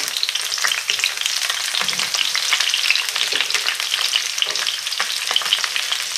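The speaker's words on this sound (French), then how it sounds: "on fait chauffer de l'huile dans une poêle et on va faire revenir nos poivrons" Bell peppers frying in sunflower oil in a pan for a Basque piperade, a close, busy sizzle with crackling pops and stirring noises running throughout.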